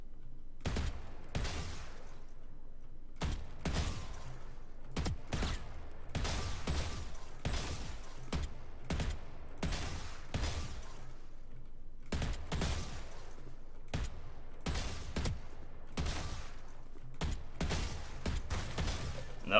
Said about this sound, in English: jiggle out, shoot a bullet or two at the guy, and jiggle back in